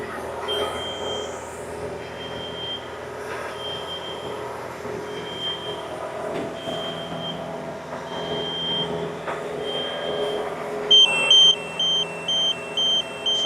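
Steady machine hum from a tracked skid steer and 45-foot boom lift being loaded, with a faint repeating high beep pulsing in the background, growing into a louder, regular beeping near the end.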